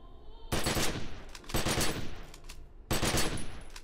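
Bursts of assault rifle fire from The Secret World, sounding as three loud, dense volleys of rapid shots with brief pauses between them, close and dominant with no talking.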